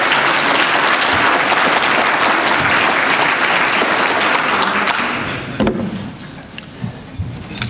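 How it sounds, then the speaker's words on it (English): A keynote crowd welcomes a speaker with loud, dense, sustained clapping that fills the room, then fades after about five seconds into a few scattered claps and room noise. "give a warm round of applause for Rajesh as we welcome him back to Champaign"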